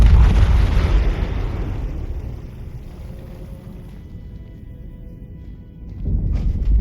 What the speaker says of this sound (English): detonating the bombs.